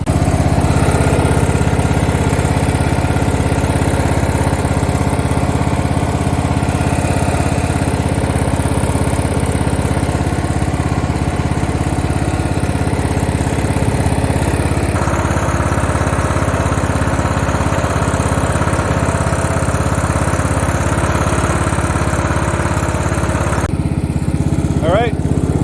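Riding mower engine idling steadily while warming up, a loud continuous near rumble throughout with a slight change in tone partway through.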